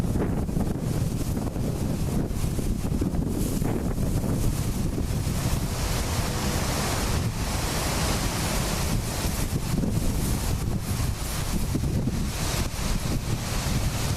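Strong outdoor wind batters the microphone in a loud, continuous roaring rumble with gusty surges and no break from start to finish.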